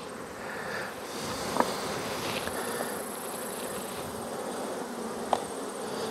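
Honey bees drone around open beehives packed with honey, a steady layered buzz close by, with a couple of individual bees zipping past the microphone.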